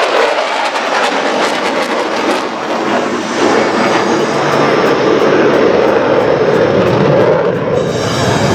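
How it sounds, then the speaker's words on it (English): F-16 fighter jets pass overhead at the Homestead airshow: a loud, sustained roaring jet rumble that swells and stays broad and powerful throughout, with no talk. "keep your eye open for, or eyes open for the F-16s"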